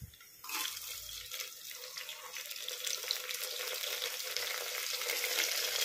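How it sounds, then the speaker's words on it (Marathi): Tomatoes drop into a pan of frying masala khichdi, setting off a sudden loud sizzle that keeps hissing and slowly swells, close up with no voices. "नंतर टोमॅटो टाकणे."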